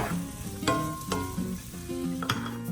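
Mushrooms fry in melted butter and virgin olive oil, a close steady sizzle punctuated by sharp stirring knocks and scrapes in the pan, with faint tonal background sound underneath.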